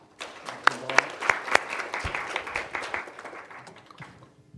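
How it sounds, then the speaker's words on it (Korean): A seated audience at a Gwangju policy forum on strategic industries applauds to welcome a speaker, with brisk clapping that peaks early and then gradually thins out and fades. "큰 박수로 모시겠습니다"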